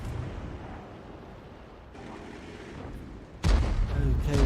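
A tank cannon fires in a video game with a sudden loud boom that booms out and rolls on, following a stretch of low rumbling battle ambience.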